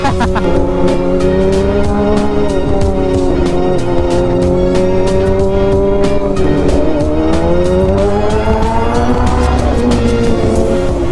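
A Kawasaki ZX6R motorcycle engine revs loudly and continuously on a mountain road near Baguio, its high whine rising and falling with the throttle and never letting up.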